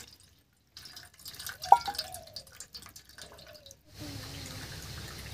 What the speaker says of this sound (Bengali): এবার এই ছানাটার উপর থেকে একটু ঠান্ডা জল দেব।